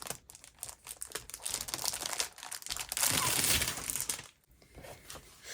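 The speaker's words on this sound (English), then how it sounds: "Picked up this stack of paper." A stack of thrifted vintage craft paper is handled and shuffled, giving a steady run of close crinkling and rustling with a denser, louder burst partway through before tapering off.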